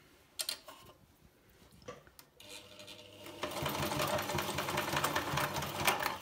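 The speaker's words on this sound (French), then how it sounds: "On doit coudre de ce côté-là où il y a nos marges de couture." A sewing machine stitches along the seam allowance of a foldable reusable tote bag, a few scattered clicks and handling knocks giving way to a steady, close motor whirr of stitching.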